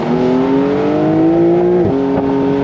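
A Porsche 992.1 911 Carrera S engine rises loudly through the revs. Its tone climbs steadily until a quick upshift makes the pitch drop, and then it begins to pull up again, close and strong.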